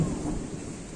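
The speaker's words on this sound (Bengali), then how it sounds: "চারিদিকে যা মেঘ করেছে না প্রচুর, বাবার এই বিদ্যুৎ চমকাচ্ছে, ভয়ও লাগে।" A thunderstorm with lightning rumbles low and distant during rain, a brief, soft roll of thunder over a faint hiss of falling rain.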